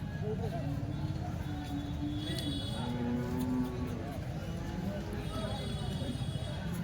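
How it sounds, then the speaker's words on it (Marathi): HF and Jersey cows mooing at a cattle market in Chalisgaon, with repeated low moos over a steady crowd din and people talking throughout. "बघा मित्रांनो, कशा एक नंबर गाई आणल्या सगळ्या"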